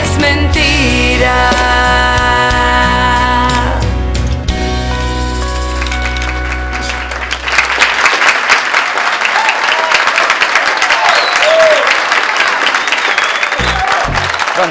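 A crowd applauds a woman, loud dense clapping filling the second half after sustained music, with the music cutting out and hands pattering on strongly to the end.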